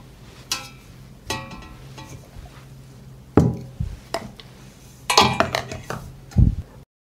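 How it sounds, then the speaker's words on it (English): Glass jars are set one by one into a deep pot lined with cloth, giving several separate close clinks and muffled knocks spread over a few seconds with no talking. "I put a cloth on the bottom of the pot. I put the jars in the pot."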